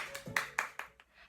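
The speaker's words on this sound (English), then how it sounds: "Let's give ourselves a big round of applause" A handful of small children aged two to five in a creative dance class clap for themselves, giving five or six soft, slightly uneven claps that quickly trail off.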